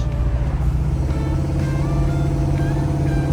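A 1969 Buick Special Deluxe on a test drive accelerates smoothly, its engine giving a steady, close, continuous low rumble with road noise and no break.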